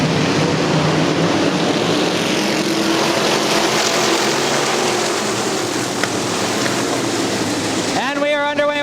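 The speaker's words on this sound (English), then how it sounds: "The main event for the IMCA Modifieds." IMCA Modified race cars in a main event at Crystal Motor Speedway, a dense, continuous engine roar from the pack filling the air, with a race announcer's voice over it.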